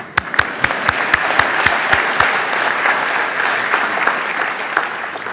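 Applause fills the hall at a dental school white coat ceremony honoring the entire class, with a run of sharp, regular near claps or thumps over the first two seconds atop the broad sustained crowd clapping.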